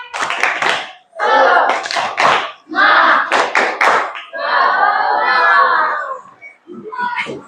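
A class of schoolchildren performs a spirit clap, loud patterned unison claps in quick bursts broken by brief pauses, followed by a drawn-out shouted group chant and a few final claps.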